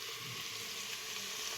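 Vegetables sauté in a pan for masale bhat, a spiced vegetable rice, giving a steady, soft, continuous sizzle with no clear breaks and no talking.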